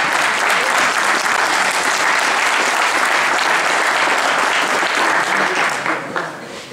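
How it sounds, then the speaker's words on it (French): Loud, dense applause from an outdoor audience at a hunting hound pack competition, sustained for several seconds before tapering off near the end. "On peut les applaudir."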